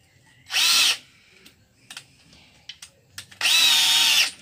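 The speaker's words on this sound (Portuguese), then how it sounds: "para nós bater os parafusos de lá para cá" Electric power drill driving screws into the rim of a tire planter: two loud, close whirring bursts, each under a second, separated by faint clicks and handling knocks.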